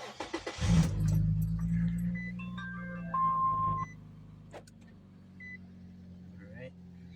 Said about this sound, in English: let's turn on the car and see how everything works out.